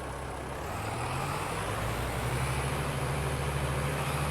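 Tractor engine in the Farm Sim video game, a loud continuous diesel-like rumble and drone whose pitch rises slightly as it drives, backed by broad wind-like noise.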